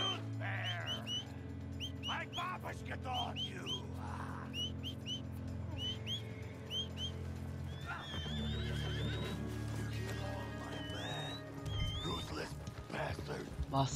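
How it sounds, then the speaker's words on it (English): A horse neighs and whinnies several times over a steady soundtrack in the video game Red Dead Redemption 2, with a person talking throughout and a few soft hoof steps. "call your horse right away."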